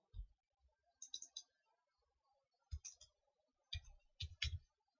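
Code typed on a computer keyboard during a game programming lesson: short bursts of quick clicks separated by brief pauses, close and fairly quiet, with no talking.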